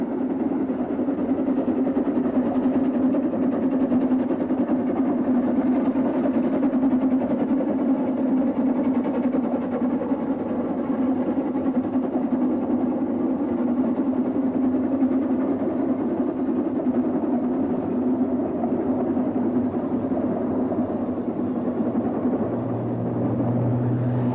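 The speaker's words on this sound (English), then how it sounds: "High above the characteristic Welsh slate cottages, another double locomotive with its 2 engines supporting 1 frame is working hard." A Ffestiniog Railway double Fairlie steam locomotive, with two engines under one frame, works hard above Welsh slate cottages. A steady, continuous low exhaust roar and rumble holds throughout, distant and even, with no voices.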